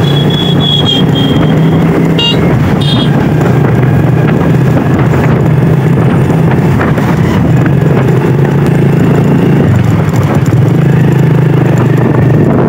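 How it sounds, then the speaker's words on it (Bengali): A motorcycle engine drones steadily while riding, heavy wind rush over the microphone blurring it into a continuous loud roar, with no talking. "আমি এখন বাইক চালাচ্ছি"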